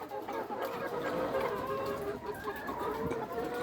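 Healthy, vaccinated hens in a poultry farm cluck steadily and overlap in a busy, continuous flock chatter, close by and moderately loud, with no talk.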